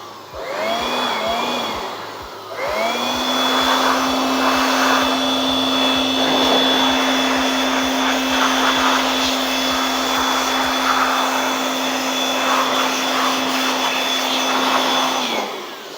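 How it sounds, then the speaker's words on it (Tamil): An electric blower blasting dust out of an Ahuja UCR 60 PA amplifier roars loud and close with a steady whining motor tone, briefly spinning up at the start and then running continuously, alone without talk. "நான் வந்து ப்ளோயர் யூஸ் பண்ணி இதை க்ளீன் பண்ணிக்கிறேன்."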